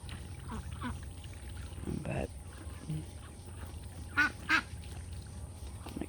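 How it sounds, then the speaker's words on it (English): Backyard ducks kept with turkeys, geese and chickens give a few short, scattered quacks at close range, with someone talking between them. "I love my ducks."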